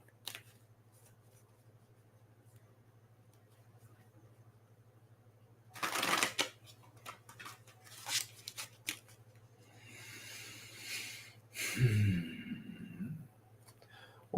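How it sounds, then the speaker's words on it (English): Playing cards being shuffled in a couple of quick riffling bursts, close up, with quiet pauses between them. "Let me get another good shuffle or two."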